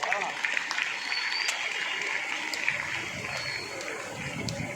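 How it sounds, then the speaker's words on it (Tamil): A crowd applauds at a children's welfare prize-giving ceremony, a continuous dense patter of clapping heard from a distance at moderate level, steady for the whole stretch. "ஒரு பலத்த கைத்தட்டல் கொடுத்தாங்க."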